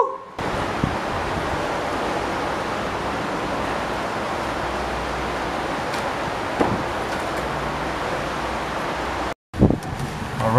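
Strong wind roars across an old, roughly 100-year-old bridge, a steady loud rushing buffet that fills the air throughout, broken by a brief dropout near the end.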